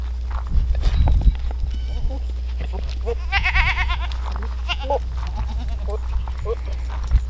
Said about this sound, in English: So let's go check on the goats.